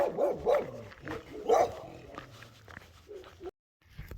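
A dog barks several times near a village church in Paunovo, Bulgaria, with a few sharp barks up close early on that fade into quieter yips, and a brief gap of silence near the end.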